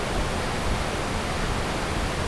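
A waterfall in the video game Abiotic Factor rushes as a steady, dense, broadband roar that stays loud and unbroken throughout, with no speech.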